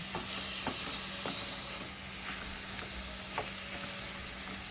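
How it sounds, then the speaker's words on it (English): Ingredients for chicken tikka masala sauté over high heat, giving a steady close sizzle with intermittent stirring scrapes and taps of a utensil against the pan, and no voices. "we're just going to let that saute and get a little brown"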